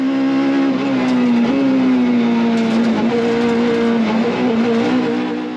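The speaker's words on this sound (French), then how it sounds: "ce que je kiffe ce moteur qui prend des tours." A Citroën C2 VTS engine revs high from inside the car, a loud sustained tonal drone that climbs and holds, with slight pitch shifts between gears and no talk over it.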